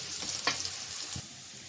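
Onions frying lightly in a pan as ground chilli, turmeric and coriander spices go in, a steady soft sizzle broken by a couple of brief stirring scrapes, close and fairly quiet.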